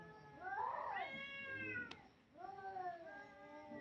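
A house cat meows close by in two drawn-out, rising and falling calls separated by a short pause, with a brief sharp click between them and no talking.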